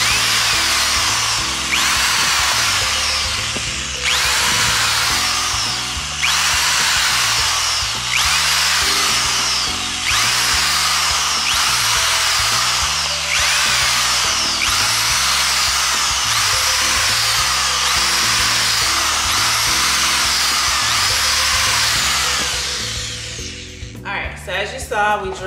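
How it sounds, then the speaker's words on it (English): A power drill boring holes in a plastic Tupperware container runs as a loud, close, steady whine for about 23 seconds, pulsing slightly under pressure, then cuts off; a voice speaks faintly beneath it. "we drilled holes inside the Tupperware container that we're using"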